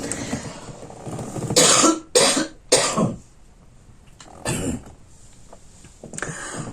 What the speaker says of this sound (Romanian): am rămas cu o tuse urâtă după gripa asta